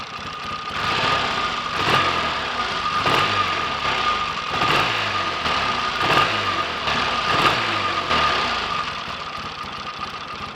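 A Triumph T140 motorcycle engine runs after an ignition fix, a loud, close, lumpy idle with regular pulsing beats and periodic blips of revving, alone without talk.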